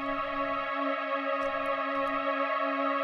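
Dark, sustained synth strings in a hybrid techno track, with wobble, distortion and a filter cutting the lows and highs, held as a steady droning chord with a shimmering reverb tail and no voices.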